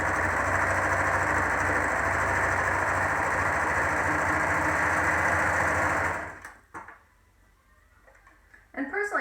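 A sewing machine stitching a modified Olson face mask, running in a continuous loud close whir for about six seconds before stopping, followed by quieter handling noises.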